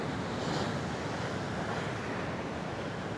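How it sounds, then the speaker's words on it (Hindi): Ocean surf breaks on French Beach near Karachi, a continuous loud wash of churning waves with steady wind noise on the microphone and no voices. "कैसे पानी उछल रहा है सफ़ेद जाग की तरह।"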